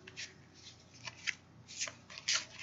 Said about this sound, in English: take the Fairy Tarot deck and we'll give it a little shuffle here